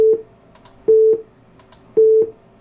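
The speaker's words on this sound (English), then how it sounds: "I'm going to generate this tone for 1/4 of a second" Three short generated beeps, each a steady pure tone lasting about a quarter second, repeat at an even interval of roughly one second with faint clicks between them, loud and clear with no talk.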